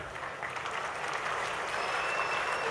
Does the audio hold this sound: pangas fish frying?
no